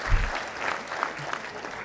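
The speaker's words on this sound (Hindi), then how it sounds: "एक ताली बजा दें इस पर सर।" An audience at a World Cancer Day liver cancer awareness event claps for the chief guest, a dense, steady round of applause at moderate loudness throughout.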